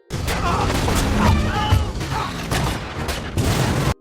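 Dense, chaotic action noise from a movie car chase with repeated sharp bangs of gunshots amid roaring engines and crashes, loud and continuous throughout.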